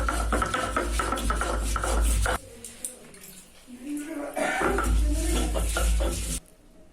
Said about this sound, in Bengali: আদা, রসুন ও জিরা একসঙ্গে করে বেটে নেব।